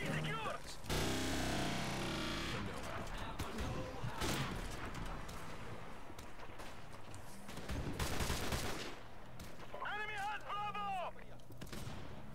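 Sniper rifle shots in Call of Duty: Modern Warfare Remastered, a loud sharp blast near the start and another burst around the middle, set among dense game noise and chatter with voices talking throughout.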